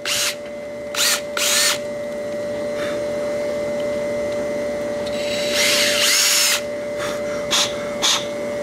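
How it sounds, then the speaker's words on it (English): Power drill boring out a fitting during construction line work, short whining bursts of drilling separated by pauses, with a longer, louder burst midway and two brief final pulses. "bump your drill, see where you're at, and you want to go through very gently"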